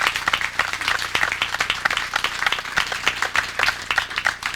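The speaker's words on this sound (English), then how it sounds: "give them a round of applause for taking time out of their day" An audience gives a round of applause at a public works project event, a continuous crowd clapping with closely spaced sharp claps at steady volume throughout.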